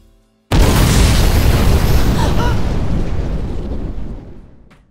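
A bomb detonates in a film scene, a sudden loud blast that roars and rumbles on for about four seconds before slowly fading.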